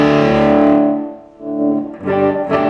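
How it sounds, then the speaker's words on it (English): Gibson electric guitar played through an amp with a roaring, heavily distorted tone, thick sustained chords ringing loud and close, dipping briefly between strums before swelling again. "the beauty of a Gibson guitar is you can have a tone roaring like this."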